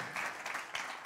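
A festival audience applauds a film director for winning an award, a brief burst of dense, mid-distance clapping that fills the moment without any voices over it.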